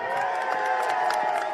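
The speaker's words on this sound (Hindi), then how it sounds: "आप सबने इनके लिए बहुत तालियां बजाई," Crowd at a Congress political rally in Jagdishpur, Amethi, clapping and cheering in a dense, continuous wash of applause with scattered shouts, steady and fairly distant.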